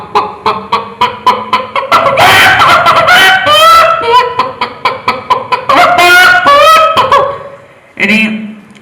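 On a school festival mimicry stage, a voice imitates a hen laying an egg: quick rhythmic clucks build into a loud, strained cackling squawk, fall back to clucks, then rise again before a short final call, close and solo.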